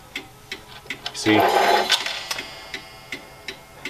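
A 31-day Korean wall clock movement gives close, crisp, evenly spaced ticks about twice per second, briefly covered by a louder rattle and clunk as someone handles it and speaks a word.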